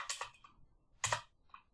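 Quiet computer keyboard typing during Adobe Premiere Pro editing: two short bursts of rapid key clicks and a final faint tap, close up, with no speech.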